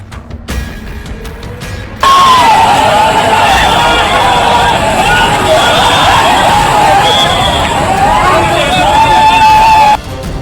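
A crowd cries out and shouts on a bridge over a barrage on the Kosi river while floodwater rushes beneath, a steady loud roar of water under the overlapping voices.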